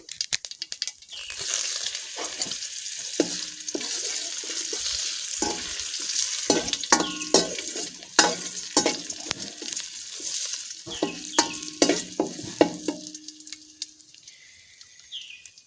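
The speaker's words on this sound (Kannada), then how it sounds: "ನೋಡಿ ಇವಾಗ ಸಾಸಿವೆ ಸಿಡಿತಾ ಇದೆ" Mustard seeds pop and splutter in hot oil with curry leaves frying for a beans palya, a steady sizzle broken by sharp crackles and the scrape of a spoon in the pan.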